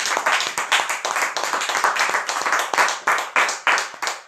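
A church congregation claps together in a steady, rhythmic beat, loud and close, each clap sharp and evenly spaced for a few seconds.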